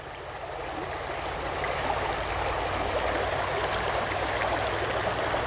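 A stream flows past an eroded steep bank, its water rushing in a broad, continuous wash that holds steady and close throughout with no voices.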